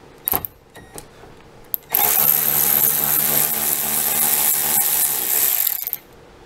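A 10 millimeter bolt is driven out of the pull-strap bracket on a Toyota 4Runner door with a power tool, making a loud steady whir for about four seconds after a few short clicks and taps.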